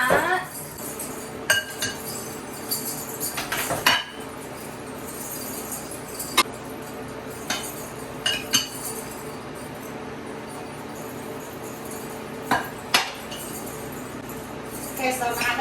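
Utensils scraping and clinking against a bowl while pasta salad is stirred, with irregular sharp clinks spread through the mix over a steady background rustle.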